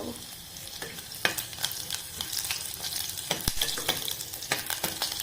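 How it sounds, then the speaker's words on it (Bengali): Finely chopped garlic fries in oil toward browning, with a dense crackling sizzle and repeated sharp scraping strokes of a stirring spoon against the pan, close and without talk. "কুচিয়ে রাখা প্রায় 6 থেকে 7 টুকরো রসুনকে আমি কুচি কুচি করে কেটে নিয়েছি। এটাকেও আমি ব্রাউন করে ফ্রাই করে নেব।"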